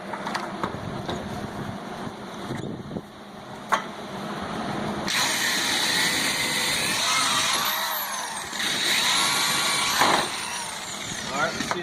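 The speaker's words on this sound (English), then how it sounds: "I'm using the D-Walt hammer drill." A DeWalt hammer drill bores holes for a trimmer rack bracket, starting with scattered clicks and bumps before a sustained loud, gritty whine with a rattling hammer action takes over for several seconds.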